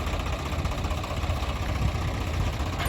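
A tractor engine idles steadily and low, continuously with a rough, throbbing rumble and no voices, close and fairly loud throughout.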